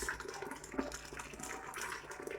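Hot water is poured into a cooking pot, giving a soft, uneven splashing gurgle close by for a couple of seconds.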